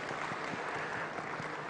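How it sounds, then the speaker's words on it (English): Steady crowd applause from an audience at a national consultative dialogue on small-scale mining, a dense continuous patter of many hands sustained throughout at moderate level. "another round of applause"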